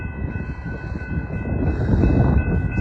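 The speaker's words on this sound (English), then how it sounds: "UP West train number 54 to Chicago OTC is now arriving." A Metra UP West commuter train rumbles steadily into the platform, a continuous low roar with a faint high tone that grows slightly louder as it arrives, with no voices.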